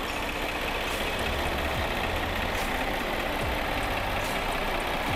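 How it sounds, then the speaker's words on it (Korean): A Jaguar XE 3.0 SC S engine idling steadily with a low, even rumble and faint higher mechanical hum, no voices, holding constant throughout. "엔진 소리 일정하네요."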